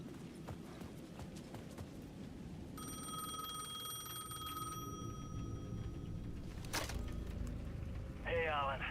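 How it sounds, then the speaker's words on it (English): A payphone in Alan Wake 2 rings in one steady electronic trill, sounding over a busy ambient bed with hoofbeat-like clatter and a sharp burst near the end. "The payphone at the edge of the plaza was ringing again."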